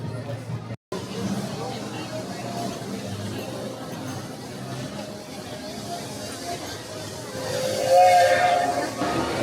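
Steady rumbling hiss of a steam train over a crowd's murmur and talk at the Main Street train station in Walt Disney World, then a brief tonal whistle rises near the end.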